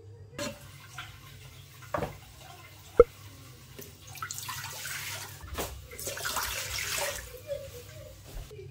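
Water is poured into a steamer pot while carrots are prepared for baby food, a soft running splash with a few clinks and knocks of kitchenware, close by and moderately quiet.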